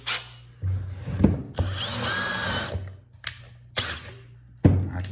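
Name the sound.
power drill driving a screw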